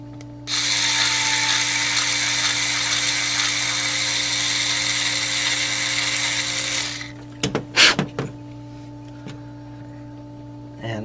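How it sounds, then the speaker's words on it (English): A larger drill bit reams out a hole in plastic on an infrared thermometer, a loud, steady whirring grind lasting about six seconds, then stopping abruptly, followed by a few brief clicks and rattles against a faint electrical hum. "we're going to have to ream this out a bit with a bigger bit"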